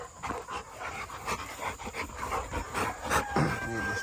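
American Bully XL stud dog panting steadily and close, with a brief whimper near the end, over constant background noise.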